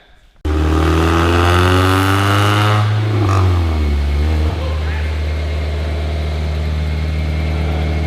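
A Mazda NB Miata fitted as an Exocet runs on a dyno: a loud, close engine drone whose pitch climbs and sweeps while revving, then drops and settles into a steady, rough hum.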